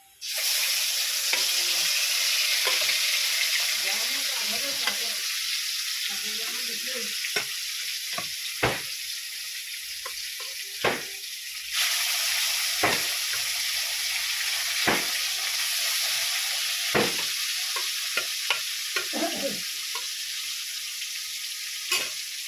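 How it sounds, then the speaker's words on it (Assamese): Fish pieces fry in a pan with a steady bright sizzle, punctuated by repeated sharp knocks and scrapes of a spatula turning them, close and without talk. "তিনি পিচকৈ ভাজিম, নহ'লে ভাজি যাব যে, সেইকাৰণে 3 পিচকৈ ভাজি লওঁ ধুনীয়াকৈ"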